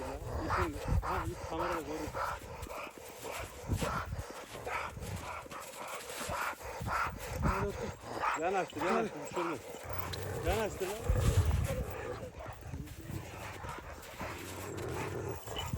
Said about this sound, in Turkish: Bunlar çiftliğimizin damızlı erkek köpekleri